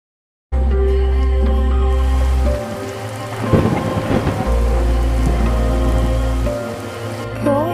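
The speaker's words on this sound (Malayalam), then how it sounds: "ഇത് എന്നൊരു മഴ എൻ്റെ ഈശ്വര." Heavy rain pours steadily with rumbling thunder, a loud roar that surges mid-way with cracking bursts before settling back into a constant downpour.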